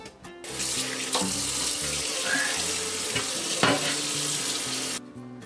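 Steady running water splashing into a sink while a Cuisinart copper core stainless steel 12-inch griddle is scrubbed with soap and water, clattering against metal, continuous and close, no voices.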